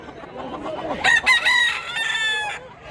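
A bullstag rooster at a poultry sale in Mantalongon, Barili, Cebu crows once, loud and close, with a long drawn-out call over faint background murmur.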